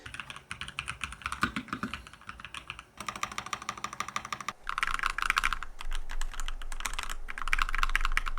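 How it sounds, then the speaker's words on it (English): Rapid typing on an ROG Strix Scope 2 mechanical keyboard with NX Snow linear and NX Storm clicky switches, with dense close keystrokes coming in bursts and short pauses between them. "The keyboard uses a combination of ROG's NX Snow linear switches and NX Storm clicky switches."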